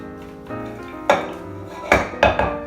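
Blueberry galette fruit tossed with squeezed orange juice in a bowl, giving soft clinks and scrapes of a utensil against the bowl, with a few sharper knocks near the end and no talking.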